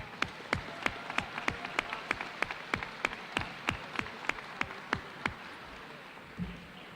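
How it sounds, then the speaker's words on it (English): Clapping at a school awards assembly, honoring the athletes of the year: a faint, steady series of sharp, evenly spaced claps that sounds like only a few hands, tapering off toward the end. "Let's give them all a round of applause again, please."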